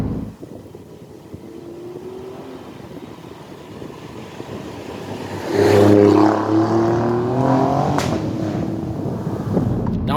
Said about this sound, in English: I'm presently driving the car in regular drive mode just while it gets warmed up